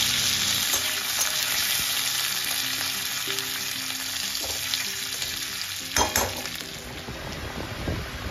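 Curry leaves fry in a hot pan for moong dal, a steady broadband sizzle running throughout with occasional stirring clinks and louder spatters near the end, close and without any talk.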